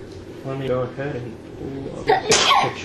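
A person gives a sharp, close sneeze right after a stretch of talking, during a tabletop Star Wars: The Old Republic game session; speech fills the first part before the burst.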